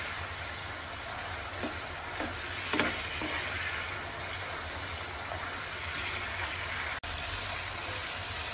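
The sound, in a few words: prawn malai curry masala being sautéed with sour yogurt in pan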